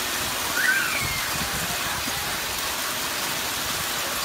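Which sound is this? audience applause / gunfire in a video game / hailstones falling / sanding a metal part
hailstones falling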